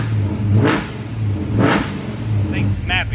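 A car engine idles cold with a low steady hum while two sharp revs rise and fall, followed by a brief voice.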